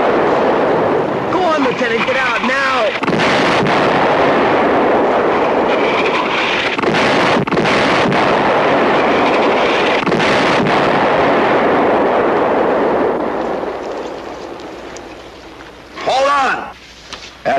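Artillery fire in a 1966 war TV drama, a sustained roar of heavy booming blasts and rumble under shouted commands, loud and dense before fading to quieter talk.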